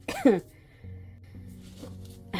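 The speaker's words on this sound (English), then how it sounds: "I just had to cough." A person coughs once sharply at the start and again at the very end, each a short harsh burst, with a low steady hum in between.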